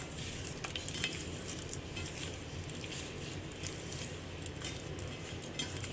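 Cubed tofu being stirred in a pan with turmeric and salt, a steady scraping, tapping patter with a faint sizzle underneath, continuous and fairly close, with no voices.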